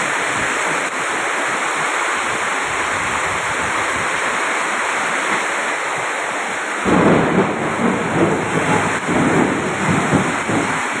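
Heavy monsoon downpour with thunder, a dense continuous roar of rain, and a deep rumble of thunder rolls in partway through, loud and close.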